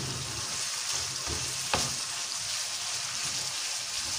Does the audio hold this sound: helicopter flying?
no